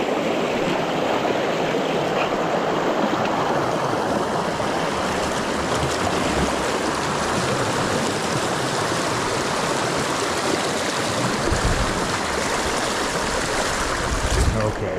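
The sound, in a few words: wading across a rocky stream, feet in water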